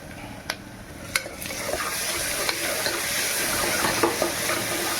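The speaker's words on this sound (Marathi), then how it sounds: "अद्रक लसणाची पेस्ट टाकणार आहे" Ginger garlic paste sizzles in a hot frying pan, a steady soft crackle under a few sharp clicks of a spoon against the pan.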